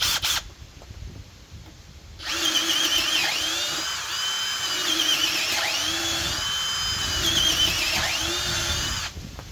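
Milwaukee M12 FUEL or DeWalt 12V cordless drill on speed 2 spinning up and running steadily at a high whine for several seconds, close by, with slight pitch dips as it loads.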